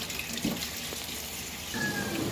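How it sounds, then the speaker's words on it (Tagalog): Fresh vegetables washed under a running kitchen tap, a continuous close hiss of water with light splashes and shifting as the produce is handled, no talking. "Ayan, hugasan na natin ang gulay."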